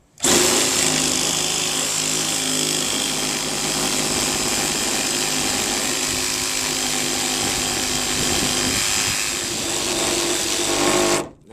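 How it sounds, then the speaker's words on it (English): A Sawzall reciprocating saw cuts all the way across Trex composite decking in one steady, loud, continuous buzz with a grinding edge, running alone for about eleven seconds. "the Sawzall cuts better like this"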